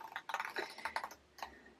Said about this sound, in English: I'm going to grab some scissors and cut off the sides.